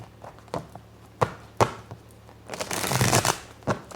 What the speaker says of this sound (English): can't really pull cards until I get that really good shuffle.